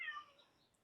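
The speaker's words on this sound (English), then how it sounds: "Sorry if you can hear a cat meowing in the background." A cat gives one short, faint meow in the background of a quiet indoor room, fading out within a second.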